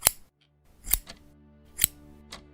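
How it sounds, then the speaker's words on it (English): Scissors snip in a TV horror drama scene: three or four sharp, close metallic cuts spaced roughly a second apart over a faint, low background hum, with no voices. "Harold, put down those scissors."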